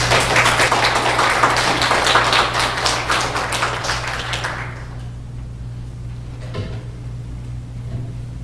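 A church congregation gives a preacher a welcoming round of applause: dense, loud clapping from many hands for about five seconds, then tapering off into a quiet room.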